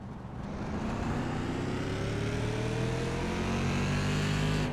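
Race car engine in the iRacing sim on a short oval bullring, a loud steady drone with rising revs as it pulls away slightly from the car behind, continuous and close throughout.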